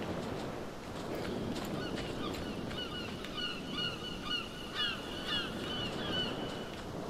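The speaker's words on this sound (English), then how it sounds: "Just listening to the seagulls." Seagulls call in a coastal area of the video game Dragon's Dogma: Dark Arisen, heard as repeated distant cries over a steady bed of wind and water ambience.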